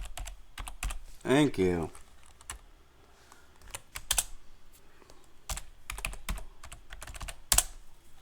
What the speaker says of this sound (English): I swear I can type when I'm not recording.